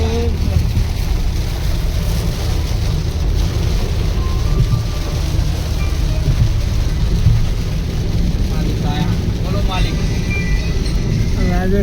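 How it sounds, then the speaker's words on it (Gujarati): Heavy monsoon rain drums steadily from inside a moving car on a hilly road in Rajasthan, a constant dense roar over low road rumble, with faint voices briefly audible in the cabin. "વરસાદની ફૂલ મોજ ચાલુ છે."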